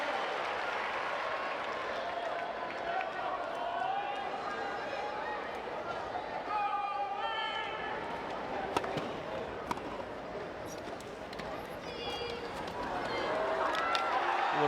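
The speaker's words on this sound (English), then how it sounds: "Listen to this crowd." A crowd at a Paralympic wheelchair tennis match in Rio applauds and cheers steadily, growing louder near the end, while commentators talk over it and a few sharp knocks punctuate the noise.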